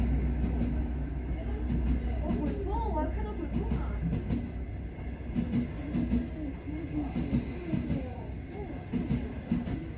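A long-distance sleeper train from Kunming to Shenzhen rumbles steadily along the tracks, heard from inside a soft-sleeper compartment, with a constant low roar and rattling while muffled voices talk intermittently.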